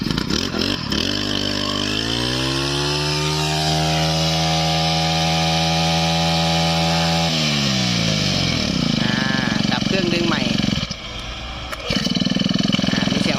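A secondhand Japanese Honda two-stroke brush cutter runs just after starting, loud and close. Its engine note climbs, holds a steady high rev, then drops back to a rough idle with brief revving.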